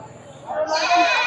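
A single loud, trembling bleat from a goat at an open goat market swells up after a moment of murmuring voices and holds to the end, close to the listener.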